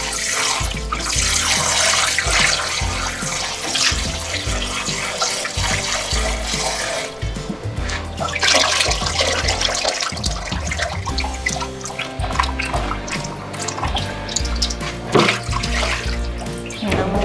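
Oysters being prepared for frying are rinsed under a running tap, with a continuous close splash and gurgle of water, shifting as the shellfish are moved by hand.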